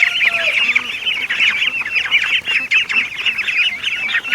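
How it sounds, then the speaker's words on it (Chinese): Black ducks calling near a rural path in western Hunan, a dense, continuous chorus of loud, close, overlapping honking quacks with no pauses. "不是洋鸭，是黑鸭。"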